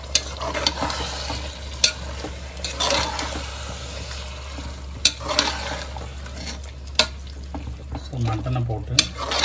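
Mutton pieces with ginger-garlic paste and masala stirred and sautéed in hot oil for Kongu-style white biryani, a steady sizzle broken by sharp spoon scrapes against the pan, with a voice talking now and then.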